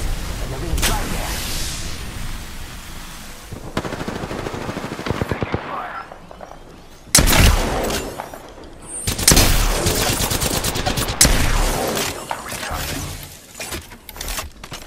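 Rapid bursts of automatic gunfire in an Apex Legends Season 4 match, loud and close, with sharp volleys and impacts clustered in the second half and quieter shooting earlier.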